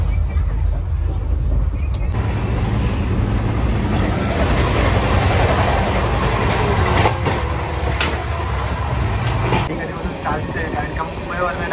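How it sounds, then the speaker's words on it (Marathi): Inside a packed passenger coach on a long-distance express, the train rolls along with a loud continuous rumble and rattling wheel noise, steady and close throughout. "तर आता गाडी चालते"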